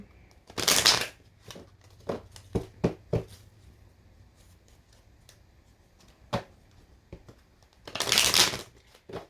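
Tarot cards being shuffled at close range, with two long riffling bursts near the start and end and a series of sharp, separate card taps and slaps between them in a quiet room with no speech.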